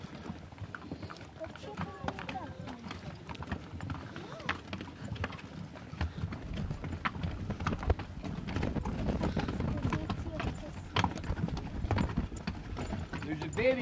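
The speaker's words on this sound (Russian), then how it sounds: "Вторая тоже лошадь, а другие две мулы." Two loaded pack horses and two mules walking by on a trail, a steady run of close hoof clops, with voices talking in the background.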